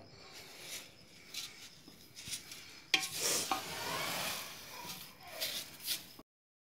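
Panjiri ingredients, including coconut, sugar and mung dal, are stirred together with a spoon, making soft, irregular scraping and rustling strokes against a pan, quiet and close, with a few louder scrapes midway.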